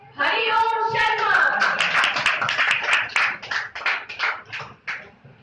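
Audience applause at a school academy prize distribution, a steady burst of hand clapping that builds quickly, holds for several seconds and thins into scattered claps, with a voice speaking at the start.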